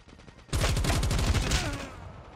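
An S36 gun in Call of Duty Mobile fires a sudden rapid burst of rattling automatic shots, loud and close, that runs steadily for over a second before tapering off.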